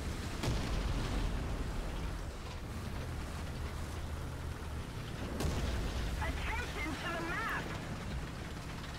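Artillery shells landing around an Object 120 tank during a capture in War Thunder: a steady rumbling battlefield bed broken by two sharp, distant blasts several seconds apart.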